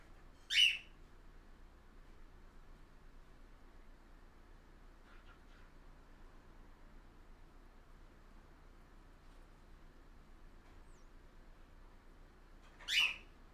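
A pet bird in a room gives two sharp, loud chirps about twelve seconds apart, with a faint hum of room tone in between.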